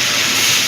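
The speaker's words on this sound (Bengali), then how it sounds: "এবার একটু গরম জল দিয়ে দেবো।" Hot water poured into a pan of sizzling sambar dal with sambar masala sets off a loud, steady hiss of steam and spatter, close and continuous throughout.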